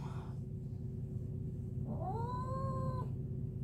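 A cat lets out a single drawn-out, wavering yowl of protest while being combed and groomed during a partial clipping, heard close and clear over a steady low background rumble.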